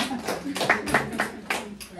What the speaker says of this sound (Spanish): Aplaudan quienes tienen menos de 30.